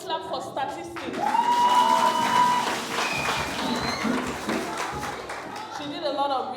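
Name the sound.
applause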